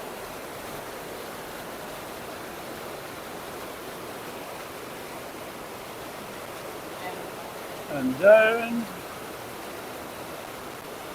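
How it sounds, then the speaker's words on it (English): The Falls of Truim in Scotland roar as a steady, dense wash of powerful rushing water filling the whole clip, with a voice speaking briefly near the end. "the falls are pretty spectacular. The water is so powerful"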